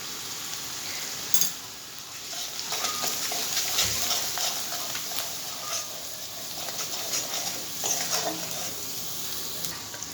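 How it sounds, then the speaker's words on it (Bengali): Ground ginger, cumin, chili powder and turmeric fry in a pan with a constant close sizzle, broken by occasional scrapes and taps of a stirring spoon. "মশলাটা আমার ভাজা হয়ে গেছে"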